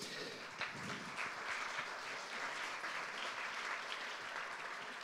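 An audience at the Prix Tégo de la Solidarité 2022 awards ceremony applauds steadily, a dense wash of many hands clapping at moderate volume for several seconds.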